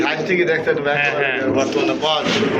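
A pair of pigeons coo softly in low, throaty murmurs beneath a person talking close by.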